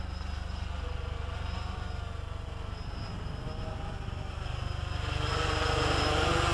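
A WLToys V303 Seeker quadcopter with a camera mount flies laps outdoors, its steady buzzing rotor whine holding loud and continuous and swelling slightly toward the end.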